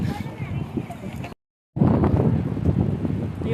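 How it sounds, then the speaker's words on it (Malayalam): Strong wind buffets a microphone outdoors next to a parked car, a loud, low, roaring rumble that cuts out briefly and then returns just as heavy. "അപ്പോൾ ഇറങ്ങിയപ്പം നല്ല കാറ്റ്"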